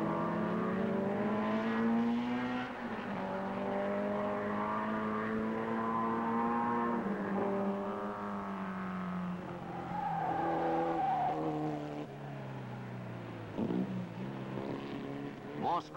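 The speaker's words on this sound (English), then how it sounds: "Shaw trails the 3 leaders, with Gurney, the pre-race favorite, in 5th position." Early-1960s sports racing cars at Mosport circuit, 1962, engines droning and rising in pitch as they pass, a continuous tonal roar with shifting gears, heard beneath a commentator's steady narration.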